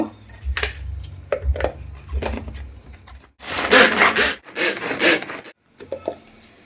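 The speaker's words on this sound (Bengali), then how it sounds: "এবার এই শাকগুলো একটু চপারে কেটে নেব" Rhythmic chopping and scraping strokes cut through leafy greens in a chopper, starting lighter and becoming louder, denser bursts before a brief pause.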